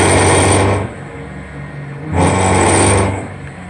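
A milling machine spindle under PID speed control runs loudly and close, its motor whine rising and easing in two cycles as the speed swells, dips and swells again.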